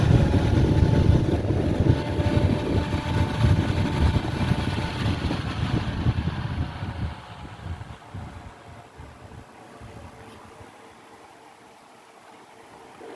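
Foxconn-made Dell PC case fans cranked to high speed push air with a loud, steady broadband whoosh, close by and alone, that winds down and fades softer toward the end.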